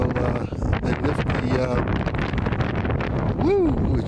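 Strong wind gusts roaring steadily across the microphone outdoors in the aftermath of a blizzard, a loud continuous rush with buffeting, while someone talks over it.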